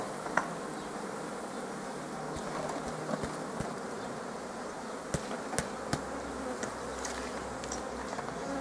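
Honeybees buzz steadily around an open beehive frame during a hive inspection, a dense continuous hum with occasional sharp clicks and knocks.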